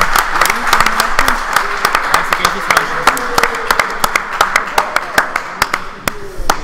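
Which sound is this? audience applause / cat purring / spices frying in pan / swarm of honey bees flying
audience applause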